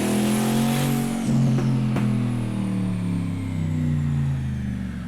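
A Ram Rebel TRX engine revs loudly on a dyno, dropping in pitch from a high rev as it winds down, with a steady rumbling drone continuing.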